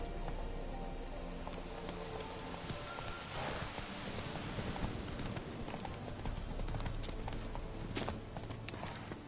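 Horse hooves clip-clop steadily throughout in The Witcher 3, a continuous trotting rhythm under ambient game sound, with no talking.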